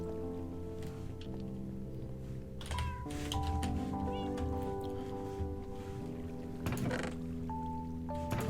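Cat meowing in the Minecraft video game, several short synthetic meows heard over layered game music and ambient tones, fairly close and clear.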